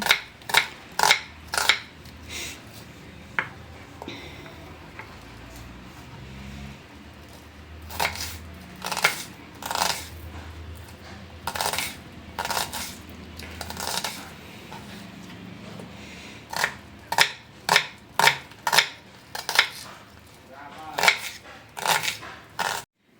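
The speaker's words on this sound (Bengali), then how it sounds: "এখন পেঁয়াজটাকেও ভালো করে আমি কুচি করে নেব একদম মিহি করে কুচি করব" An onion is finely chopped with a knife on a board, giving rapid bursts of crisp, close blade strikes against the board. The bursts come in quick clusters with short pauses between them, alone and without talk.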